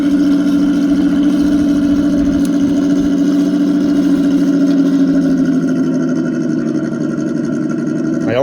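A scale RC model car drives along a track beside a lake, its small motor whining in a steady buzzing tone that shifts pitch near the end, close and continuous with no voices.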